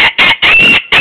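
A person imitates a rooster crowing, loud and close, in four forceful bursts separated by short gaps, with no other talk.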